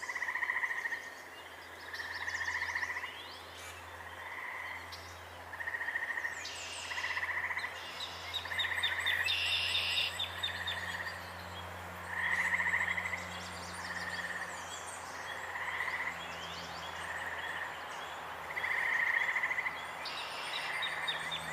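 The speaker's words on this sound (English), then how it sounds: "And the frogs." Frogs croak in repeated pulsing bursts at an outdoor nature spot, forming a steady, rhythmic chorus of moderate loudness, with occasional bird chirps above it and a low hum beneath.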